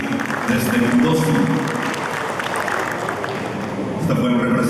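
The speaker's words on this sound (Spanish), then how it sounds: "fuerte el aplauso, más fuerte para el señor Silvio Ramírez desde Mendoza" Audience applause at the official inauguration of the AgroShow Copronar 2023 agricultural fair, dense continuous clapping from a crowd with a voice speaking over it.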